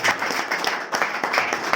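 Loud, steady applause from an audience cheering Mister Harry during a lecture, a short continuous burst of many hands clapping close by.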